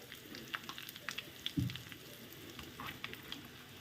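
Quiet crackling and sizzling as curry leaves and asafoetida drop into hot tempering oil with a dried red chilli for Andhra-style pappucharu. Soft scattered pops are heard, with one brief louder burst.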